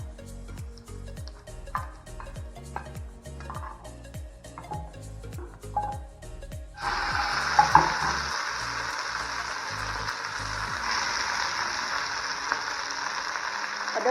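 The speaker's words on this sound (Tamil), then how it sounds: "புளி போட்டு நல்லா வதக்கிடலாம்." Tamarind sautéing in a pan for a coconut-free chutney, first a run of rhythmic stirring taps against the pan, then a sudden loud steady sizzle that carries on close by with occasional scrapes.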